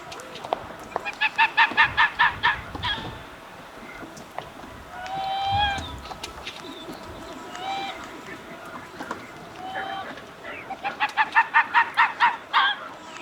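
A nesting colony of common eider ducks calls in repeated bursts of low, cooing honks, rising and falling across the scene with quieter stretches between.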